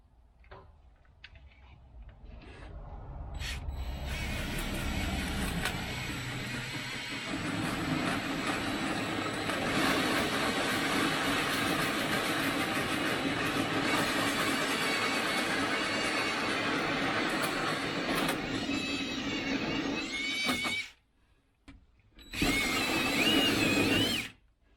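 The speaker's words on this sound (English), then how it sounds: "get my drill up here in my hole saw and drill this out" A power drill with a hole saw spins up and grinds steadily through a door for a long stretch, loud and close, then briefly stops and starts again.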